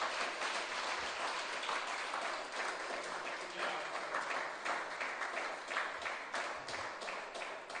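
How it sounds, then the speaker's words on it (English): An audience at an awards ceremony claps in sustained, dense applause that keeps going without a break, with a faint voice now and then. "can we give a rousing round of applause to all the donors for all of the awards given by SPBS?"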